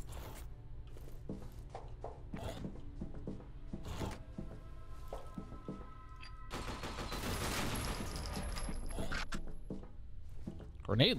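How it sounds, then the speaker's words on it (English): Gunfire and explosive grenade-launcher blasts in the first-person shooter game F.E.A.R. Perseus Mandate, several sharp bursts with mechanical clicks and a dense barrage toward the end. "Grenade launcher. Thing sucks."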